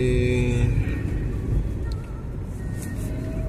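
A car rolling slowly along a road after easing over a large speed bump, with a steady low engine and road rumble throughout, close and even, with no voices.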